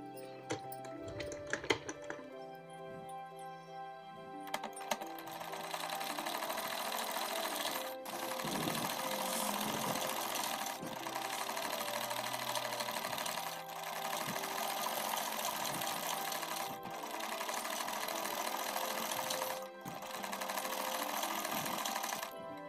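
Sewing machine stitching the side slit of a ladies' suit: after a few handling clicks, a long run of rapid needle chatter, close and steady, broken by brief pauses, with no talking.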